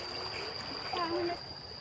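Water flowing and splashing close by, with children and adults talking over it throughout.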